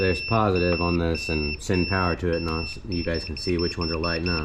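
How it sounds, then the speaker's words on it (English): Steady high electronic beeping tones run through most of the clip, partly interrupted, beneath someone talking continuously close by. "Sorry for the beeping, but I'm gonna hit this power button."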